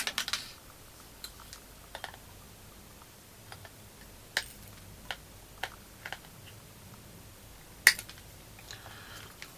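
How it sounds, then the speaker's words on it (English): Wire snippers clip component leads on a circuit board, giving sharp, isolated snaps scattered irregularly over a quiet room, each one short and fairly faint, with no talking. "So then we can just snip the wires off."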